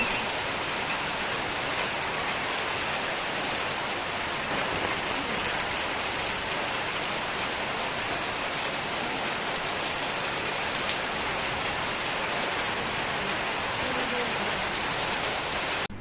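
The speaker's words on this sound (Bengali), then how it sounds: "অনেকদিন পর টিনের চাল বিকালে বৃষ্টি পড়ার শব্দ শুনব" Heavy, steady afternoon rain drums on a tin roof, a dense unbroken patter that holds at the same loud level throughout.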